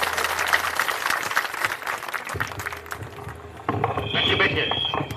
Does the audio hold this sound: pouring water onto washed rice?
no